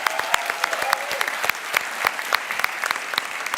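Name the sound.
audience applause for three finalists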